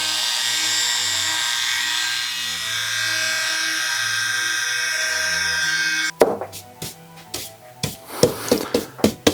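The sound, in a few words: power tool sanding corners of a wooden board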